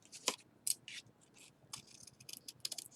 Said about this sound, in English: we're going to cut a little triangle off of the folded edge